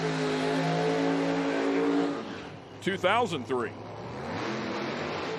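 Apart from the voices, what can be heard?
nitro drag race car revving during burnout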